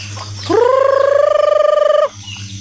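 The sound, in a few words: chickens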